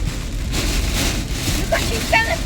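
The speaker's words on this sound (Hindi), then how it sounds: "ओले पड़ रहे हैं, ओले।" Hail pounds down during a violent storm, a dense, continuous drumming and rattle close by, with brief voices and small clicks over the din.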